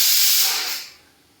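A lid coming off with a strong hiss of escaping steam or pressure, loud and close at first, then fading away over about a second.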